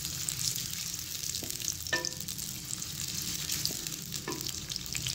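Onions crackle and sizzle in hot cooking oil, a continuous close frying hiss broken by a few sharp metallic clinks of a spoon stirring the pan.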